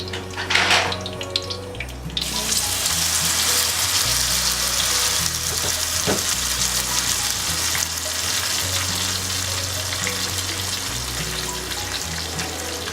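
Loud, steady sizzling of a blended spice paste frying in a hot pan for South Indian crab curry, continuing throughout with music playing underneath.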